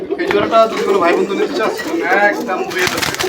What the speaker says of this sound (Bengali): এই যে নটটা সামনের দিকে ডাকাডাকি করতেছে